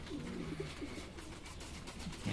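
Paired breeding pigeons coo softly and repeatedly in a loft, low throaty calls close by over a faint background hiss, with no speech.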